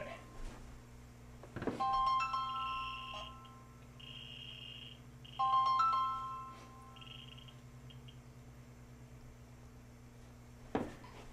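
A Samsung Galaxy S2 cell phone rings in the next room as a repeating electronic tone pattern over a steady buzzing hum, with a couple of sharp interference clicks and faint talk.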